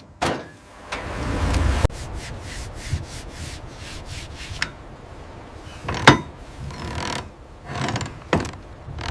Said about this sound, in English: Get that wrench tightened down.